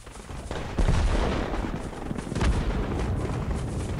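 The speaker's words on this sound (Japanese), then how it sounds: "やばい、銃声がすごい。" Gunfire and explosive blasts in the mobile battle royale game Knives Out, in a dense, continuous barrage of rough booming shots that swell louder after the first second and keep rumbling without pause.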